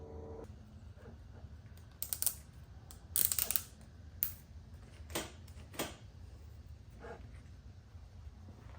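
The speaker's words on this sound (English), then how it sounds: "I'm gonna use some zip ties" Zip ties are ratcheted tight around a dirt bike handlebar grip, giving several short bursts of sharp plastic clicking separated by quiet gaps, close by and without talk.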